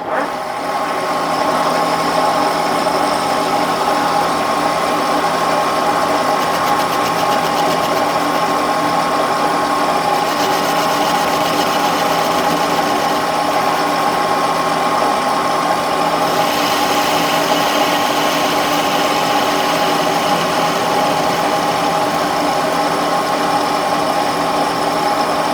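Steady mechanical whirring and hum of a metal lathe facing off a guide bushing, a constant drone with faint shifts in tone partway through.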